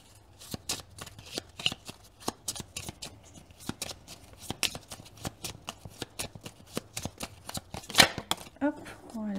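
Greater Hand Oracle Deck cards shuffled by hand in rapid, steady flicks and riffles, close up, ending in a few louder slaps as cards drop out of the deck.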